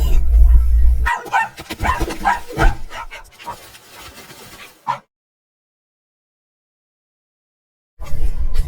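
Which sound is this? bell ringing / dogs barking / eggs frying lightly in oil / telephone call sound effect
dogs barking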